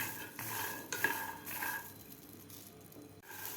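Fresh pigeon pea beans dry-roasting in a pan for a tur bhel snack, with close, fairly quiet utensil scrapes and light clinks against the pan as they are stirred, over a soft steady hiss and no talking.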